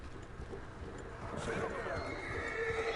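A horse in Red Dead Redemption 2 lets out a loud whinny over the clatter of its hooves, while someone talks over the game sounds.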